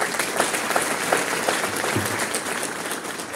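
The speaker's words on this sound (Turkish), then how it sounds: "kuvvetli bir alkış istiyorum." A hall full of people bursts into dense applause at the İYİ Party's third ordinary general congress, a loud, unbroken wash of clapping that fills the whole moment.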